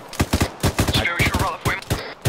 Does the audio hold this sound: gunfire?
yes